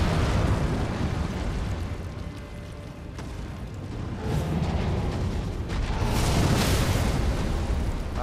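Fire bursts from the ground in the video game Elden Ring, a loud, rumbling roar that surges in waves with deep booming swells and hissing flame across several seconds.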